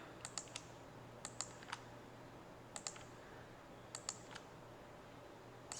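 Computer keyboard and mouse clicks come in small clusters of two or three sharp taps, spaced by pauses, faint and close over a low steady hum, with no talk.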